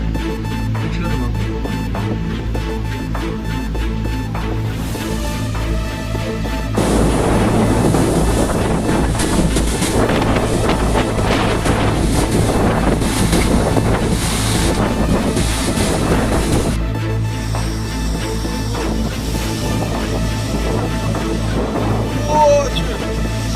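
Strong storm wind in Shanghai and Zhejiang, a steady roaring rush that swells into louder, harsher gusts in the middle stretch before easing back, with heavy buffeting against the microphone and no talk.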